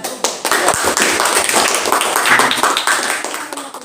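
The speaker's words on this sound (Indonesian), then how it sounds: "Beri aplaus untuk kelompok." An audience claps for a presenting group at a teachers' training session, with a dense, fairly loud burst of hand claps that carries on for a few seconds.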